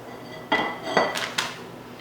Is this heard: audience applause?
no